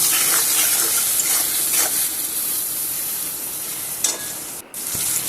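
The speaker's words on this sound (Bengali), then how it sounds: "দিয়ে নুন আর হলুদটা দিয়ে ভালো করে আমি আলুর সাথে তেলের সাথে ভালো করে মিশিয়ে নেব।" Potatoes stirred in hot oil with salt and turmeric sizzle steadily in a pan, with intermittent scraping strokes of the spoon close by and no talk.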